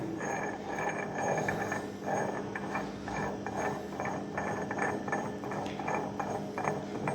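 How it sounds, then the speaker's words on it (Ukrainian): A nut is threaded onto a homemade bolt, giving a continuous run of close, gritty, ratcheting metal clicks and scraping in an uneven rhythm, with no voices. "гайка наворачується"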